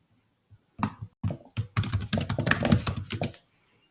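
Fingers type login credentials on a computer keyboard, a quick run of light, close key clicks with a short pause near the start, then a steady burst of tapping that stops.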